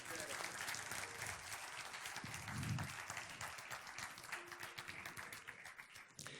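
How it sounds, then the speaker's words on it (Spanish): A church audience applauds a boy named Axel, crisp rapid clapping from a modest group heard fairly faintly, continuing steadily with a short voice in the middle and tapering off at the end. "Démosle un aplauso a Axel"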